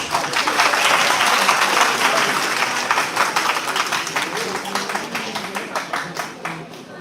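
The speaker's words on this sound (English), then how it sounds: "Give a big round of applause for them." Sustained audience applause at a university National Constitution Day celebration following a student constitutional drama, dense clapping from a large crowd that stays loud and then slowly thins over about seven seconds.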